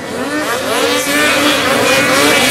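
Race cars arriving on the track at the 2013 Valcourt Grand Prix, engines loud and close, revving and whining with wavering pitch as several cars sweep past together.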